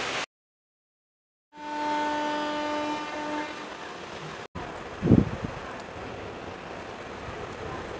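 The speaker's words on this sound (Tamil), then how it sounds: "ஸோ நம்ம ட்ரெயின் கிளம்ப வேண்டிய டைம் வந்துருச்சு." Sengottai to Madurai express train departing the station, with a sustained harmonic horn blast followed by steady rolling rumble and a brief louder clatter nearby.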